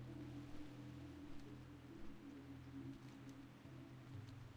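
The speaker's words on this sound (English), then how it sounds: "I always like when it rains in Duskwood." Steady rain falls over Duskwood, a dark forest zone in World of Warcraft, a constant even hiss under low droning ambient tones with no voices.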